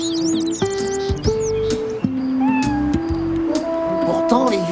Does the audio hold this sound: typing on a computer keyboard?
no